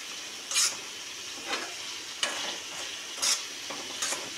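Paneer frying in a pan is stirred with a utensil, giving several sharp scraping stirs over a steady soft sizzle, close by and with no talking.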